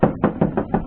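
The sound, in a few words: knock imitating a dog's tail hitting a house wall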